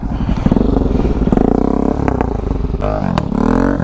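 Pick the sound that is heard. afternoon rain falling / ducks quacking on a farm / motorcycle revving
motorcycle revving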